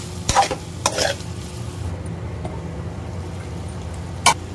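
Chicken is stirred in a pan with chili powder, coriander powder and garam masala: a few scraping strokes of a spoon against the pan over a soft, steady sizzle, ending with one sharp clink.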